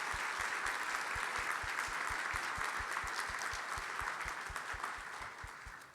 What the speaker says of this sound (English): Please give the Grove Park Inn and Rob Kleber a big round of applause